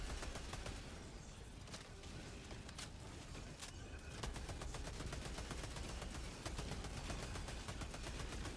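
Rapid automatic fire from a Defender submachine gun in a shooter video game, a steady fast rattle of shots running nearly the whole time, loud and dense with overlapping reports and no talk.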